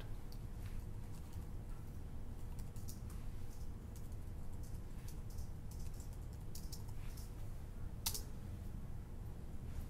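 Fingers typing on a computer keyboard, a quiet, irregular run of light key clicks with a sharper cluster near the end, close by over a low steady room hum, with no talking.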